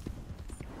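Light, rhythmic horse hoofbeats in Red Dead Redemption 2 clip-clop at a steady trotting pace, fairly quiet and close, with a faint background hum.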